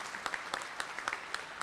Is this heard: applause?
yes